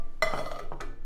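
A heavy-bottomed frying pan and a rolling pin are handled in a kitchen, giving two quick metallic clanks close by in a quiet room.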